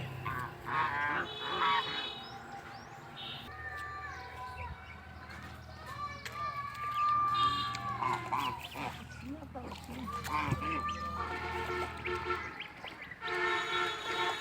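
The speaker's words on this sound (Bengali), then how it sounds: "যে সবুজ ঘাস খেয়ে বাড়িতে চলে যাচ্ছে হাঁসগুলা, অনেক সুন্দর হাঁসের দল" A flock of domestic geese heading home after grazing on green grass honks repeatedly at close range, overlapping calls rising and falling over a low steady hum.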